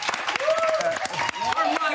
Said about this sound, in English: Give yourselves a round of applause today.